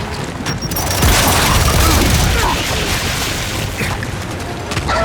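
Grenade explosion and gunfire in the Gears 5 video game, a dense loud rumbling blast and clattering fire filling the whole stretch, with voices shouting over it.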